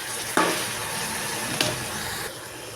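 Chopped, washed cabbage tumbling into a hot pan with curry leaves while cooking cabbage poriyal, a steady close sizzle with two sharp bursts as the vegetables land, no talking.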